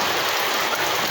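The season's first rain falls in a steady, dense hiss, close and continuous, with no voices over it.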